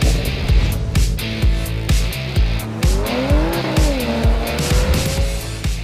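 A 2020 Porsche Macan Turbo cornering hard, its tires squealing in long wavering tones over a loud, revving engine with rhythmic thumps, close and continuous.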